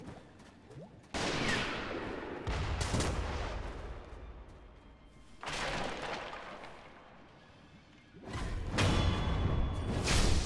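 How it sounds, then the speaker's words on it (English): Gunfire from enemy gunners in the video game Sekiro, heard as loud bursts of shots and impacts in several waves across the clip, dense and close with heavy low rumble. "Okay, so I can block gunshots?"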